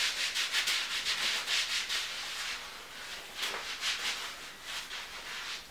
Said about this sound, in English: You just keep rubbing until you feel like it's completely blended out.